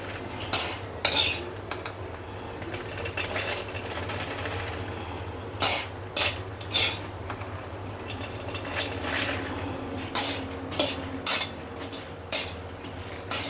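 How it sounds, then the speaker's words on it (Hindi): Peanuts roasting in ghee in a pan over low heat are stirred with a metal spoon, giving sparse clinks and scrapes in small clusters over a quiet background, close and alone. "मैंने धीमी धीमी आंच में मूंगफली भून के तैयार कर ली"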